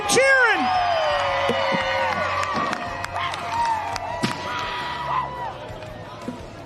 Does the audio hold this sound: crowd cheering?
yes